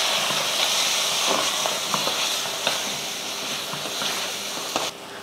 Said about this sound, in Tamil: இதையும் போட்டு நல்லா வதக்கிடுவோம்.